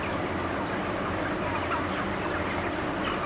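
Chickens on a UK chicken farm, a dense crowd of birds flapping and clucking in a continuous loud mass of wingbeats and calls filling the shed.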